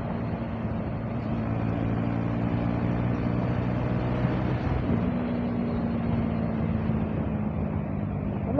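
A Honda CBR150R motorcycle fitted with an aftermarket exhaust rides along, its engine note a steady, low, droning hum that holds even and continuous throughout with no speech.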